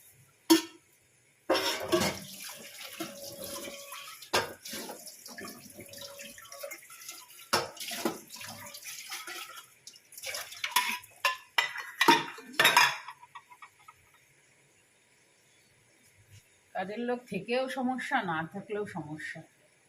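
Pots, plates and cutlery clatter and scrape in a kitchen sink basin under running tap water, loud bursts broken by quiet pauses, and a voice speaks near the end.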